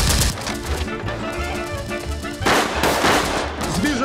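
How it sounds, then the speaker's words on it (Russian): Gunfire in a tense film shootout, bursts of rapid shots crackling loud and close, with a heavier volley breaking out in the second half. "Ну хватит палить, береги патроны!"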